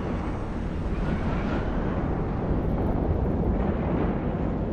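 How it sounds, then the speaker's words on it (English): Missiles launching from a Gila ship in Eve Online during an Abyssal Deadspace fight, a sustained roaring rumble with a rushing, wind-like texture, steady and alone without talk. "Fires the missiles."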